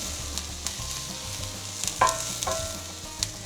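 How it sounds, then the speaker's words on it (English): Salsa stirred in a hot pan while enchiladas placeras are made, a spoon scraping and clinking a few times over a steady sizzle, close and clear with no talking. "Give this a little stir right here"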